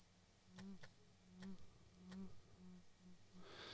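A handheld metal detector pinpointer buzzes in a string of about six short, evenly spaced pulses, fairly close and clear, with no talking over it.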